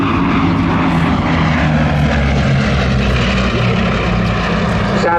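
A Blenheim light bomber flies past at an airshow, its propeller engines making a loud, continuous droning roar.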